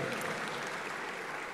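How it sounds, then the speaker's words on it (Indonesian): Audience at a public university lecture applauding Universitas Jember: a dense, steady burst of clapping from a crowd in a hall, sustained evenly throughout the short moment. "Tepuk tangan untuk Universitas Jember"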